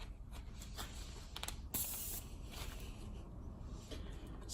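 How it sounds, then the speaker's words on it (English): An airbrush sprays lacquer paint at low pressure in a hobby workshop, making a soft steady hiss with a few sharp bursts and clicks as the trigger is worked. "Spraying about 10 psi for lacquer paint."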